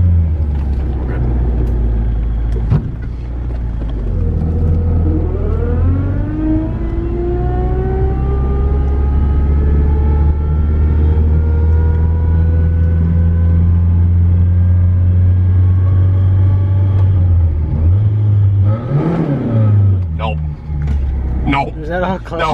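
Cars pass in traffic while a red Nugget waits at the roadside, one vehicle's engine rising and falling in pitch as it goes by close, over a constant low idling rumble, with people talking.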